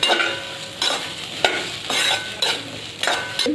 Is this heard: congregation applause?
no